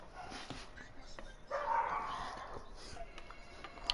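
Two dogs barking and yipping indoors, with a burst of barks in the middle and scattered yelps around it, moderately close, mixed with people talking.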